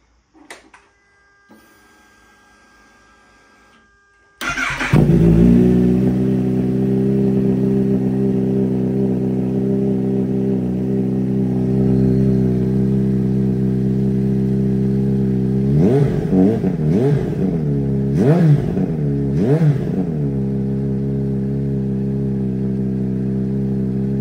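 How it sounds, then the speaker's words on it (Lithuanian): A Kawasaki ZH2 motorcycle with DB killers removed, after a few quiet clicks the engine fires and idles loudly and steadily, then several quick throttle blips rise and fall near the end. "Tai būtų Kawasaki ZH2"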